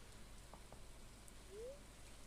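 Soft rain falls steadily in the video game Stardew Valley, a faint, even hiss of drops with a couple of tiny chirps over it.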